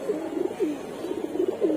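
Pigeons coo softly inside a loft that houses a silver jabra, a few low rolling calls repeating over a faint steady background hiss, with no voices present.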